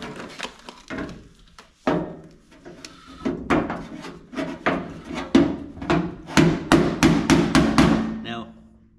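A hammer and dolly reshape the sheet metal of a 1964 Impala fender in sharp close metallic blows, sparse at first, then quickening into a dense, rhythmic series of strikes.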